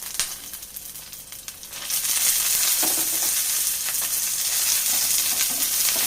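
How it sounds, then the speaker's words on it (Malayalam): Dried red chillies drop into hot oil with softened onions in a pan for a coconut dish, and a loud, steady sizzle swells after the first two seconds and then holds broad and continuous, with light stirring scrapes. "ഇനി നമുക്കിതിലേക്ക് മുളക് ഇട്ട് കൊടുക്കാം"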